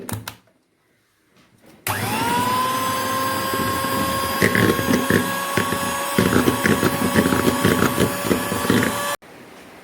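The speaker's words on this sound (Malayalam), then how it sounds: "ഐസിങ് ഷുഗറും കൂടി ഇട്ടിട്ട് ബീറ്റ് ചെയ്യാം." An electric hand mixer beats whipped cream with icing sugar for a no-oven Oreo cake, starting abruptly and whirring at a steady high pitch close by, with uneven scraping against the bowl, then cutting off.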